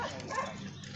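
A dog whimpers and gives a short bark up close, with a steady whine running through the moment and no talk over it.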